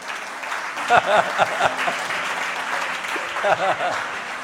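A church congregation applauding, a continuous patter of clapping from many hands with a few louder bursts, mixed with voices speaking and calling out over it.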